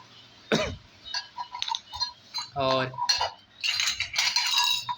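Freshly washed metal puja vessels, among them a panchpatra, clink and clatter against one another in a run of scattered light knocks and rattles, close by and fairly quiet.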